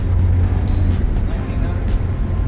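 A 1951 Hudson Pacemaker hot rod with a turbocharged 308 engine cruises at about 60 mph, its steady low engine drone and road rumble filling the cabin continuously and loudly, with no break.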